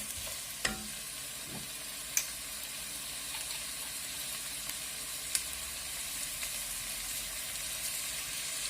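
Onions frying in a pan after salt is added, a steady faint sizzle and hiss with occasional stirring clicks, heard alone.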